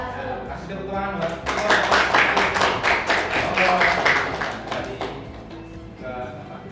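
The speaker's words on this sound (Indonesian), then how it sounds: "Kasih tepuk tangan buat." Classroom clapping, a short burst of distinct individual claps with a voice talking faintly before and after.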